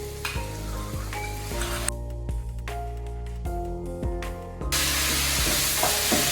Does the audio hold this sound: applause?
no